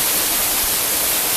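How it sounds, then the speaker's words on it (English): Mana Waterfall in Himachal, India, rushing in a steady broadband roar that fills every moment, loud and close, with no voices. "as you can see, this is Mana Waterfall"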